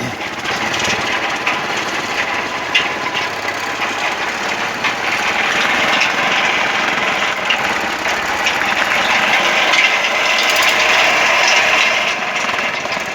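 A vibrating table driven by a washing machine motor runs continuously with a steady mechanical hum and rattling buzz, close and loud, unchanging throughout with no speech.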